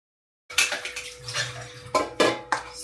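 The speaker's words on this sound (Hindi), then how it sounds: "तो अभी हो चुका है बर्तन धोने का टाइम, बर्तन धो लेती हूँ" Dishes, pots and pans clatter against each other at a home kitchen sink during washing up, with running water hissing underneath and several sharp clinks standing out near the end.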